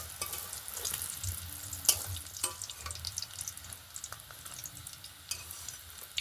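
Carrot langcha sweets frying in oil, a faint, uneven bubbling sizzle with scattered clicks and light handling knocks of a utensil; no voices.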